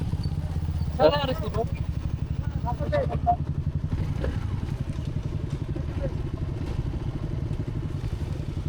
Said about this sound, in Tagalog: Uurasan natin kung ilang oras ang takbo ng ating motor.